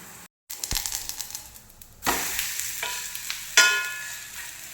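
Vegetable chilla sizzling and frying in a pan right after being flipped, a steady close crackle with scraping stir sounds and a brief clink partway through, no talking.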